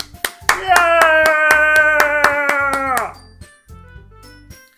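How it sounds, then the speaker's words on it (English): Sharp rhythmic hand claps in a steady beat in the video game Doki Doki Literature Club, joined by a sustained sung or wailing voice and a shout, then a few scattered claps as it fades. "I'm the first to start applauding."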